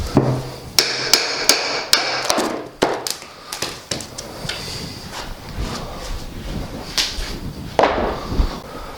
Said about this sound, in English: So now we're going to start hacking off and removing old plaster.